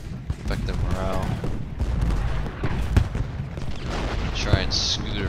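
Cannon fire booms in the Ultimate General Gettysburg strategy game, several sharp shots over a dense, noisy battle soundscape while someone talks throughout.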